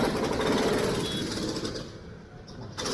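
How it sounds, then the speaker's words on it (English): A jackhammer pounds at a building site in Saigon, a dense rapid hammering close by and fairly loud that eases slightly partway through, with no talk. "The building site."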